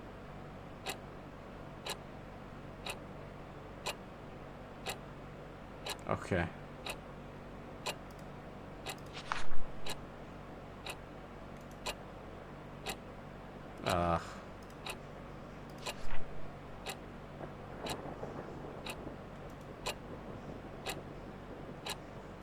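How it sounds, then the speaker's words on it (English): A loud clock ticks in the horror video game Love, Sam, with sharp, evenly spaced ticks about a second apart over a low background rumble, joined by a few louder thuds and a brief spoken word. "That clock got so loud too."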